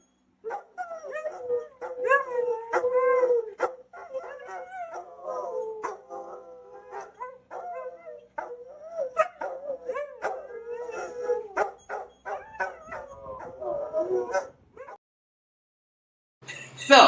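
Two pet dogs, Langston and Huey, howl and bark together in a long, wavering, up-close chorus with sharp yips breaking through, then go quiet before a final loud burst.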